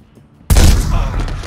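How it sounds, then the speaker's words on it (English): A single loud shotgun blast in The Godfather video game, sudden and close, followed by a short booming tail fading over the next second. "Matar ele com uma shotgun?"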